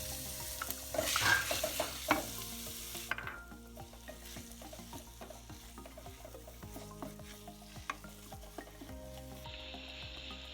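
Carrot and chicken paste with onion is stirred in a pan, the spoon scraping in steady rhythmic strokes over a low sizzle, close and fairly clear with no talking.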